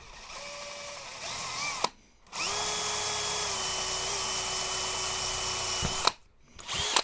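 A small DeWalt cordless drill with a 1.5mm bit whines steadily at high speed in two long bursts, separated and ended by short pauses, close and clear.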